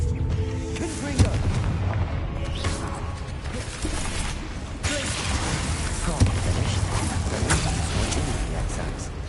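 Confringo fire spell blasting in Hogwarts Legacy, booming explosive bursts and whooshes amid dense combat noise, loud and continuous, with voices under the action.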